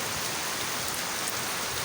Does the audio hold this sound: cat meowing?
no